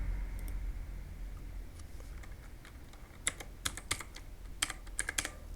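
A computer keyboard clicks under light fingers entering a verification code, a sparse scattering of faint keystrokes over a low background hum, quickening into a short flurry of taps near the end.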